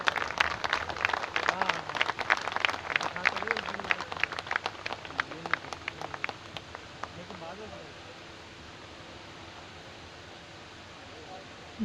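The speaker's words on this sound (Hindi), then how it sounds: "और अब मैं अनुरोध करता हूं कि अशोक ठाकुर जी के लिए एक बार तालियां जब तक बजती रहें" An audience at a community ceremony and ground-breaking function applauds, with many hands clapping briskly for several seconds before thinning and fading into a quieter murmur of the crowd.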